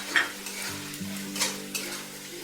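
Paneer butter masala with kasuri methi being stirred in a pan, a spoon scraping and turning the thick sauce in a few short strokes over a soft sizzle, close and fairly quiet.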